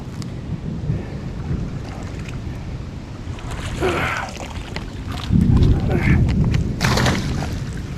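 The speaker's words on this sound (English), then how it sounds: "Y'all can see that wind blowing in here." Wind buffets a microphone outdoors on a fishing trip as a thunderstorm approaches, a low rumbling roar that swells and gusts louder toward the end, with a person talking over it.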